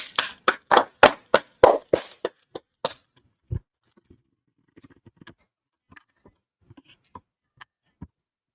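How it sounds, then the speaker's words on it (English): A small group claps for a class at a religious gathering: a brisk burst of loud hand claps for about three seconds, then scattered, fainter single claps trailing off into near silence. "Clap it up for the class."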